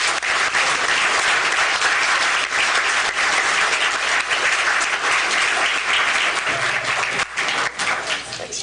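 An audience at a 2018 Glasgow/Barren County political forum breaks into loud, sustained applause, a thick wash of many hands clapping close by that tapers slightly at the end.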